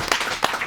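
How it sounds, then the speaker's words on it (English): An audience breaks into a round of applause at a business talk on affiliate partnerships in Dubai: a short, dense patter of many hands clapping at once, with two louder swells. "So can we give a big round of applause?"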